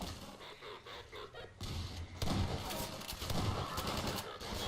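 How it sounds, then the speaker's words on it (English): Shotgun blasts in Half-Life 2 during a firefight against Combine soldiers, heavy booming shots over a dense, noisy battle ambience. "Long range shotgun kill"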